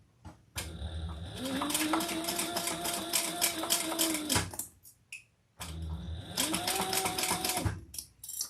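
A sewing machine stitches piping onto a shoulder bag in two steady runs of rapid, even whirring, close and clear, separated by a short pause.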